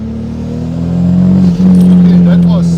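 A Toyota Supra's 2JZ engine fitted with a Precision turbo hums under load as the car drives, a low steady drone rising slightly while a person talks over it.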